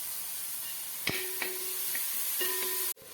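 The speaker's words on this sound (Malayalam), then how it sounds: "നമുക്ക് അരിഞ്ഞ് വെച്ചേക്കുന്ന സവോളയും കുറച്ച് കറിവേപ്പിലയും കൂടി ഇട്ട് നന്നായിട്ട് അങ്ങോട്ട് വഴറ്റിയെടുക്കാം" Chopped onions and curry leaves sauté in hot oil in a pan for a crab roast, giving a steady close sizzle broken by a few sharp scrapes and knocks of a stirring spoon, with no voices.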